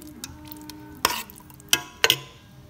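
Ketchup is mixed into a Chicken Manchurian sauce, with three sharp scraping spoon strokes against the pan over a quiet, faintly bubbling background.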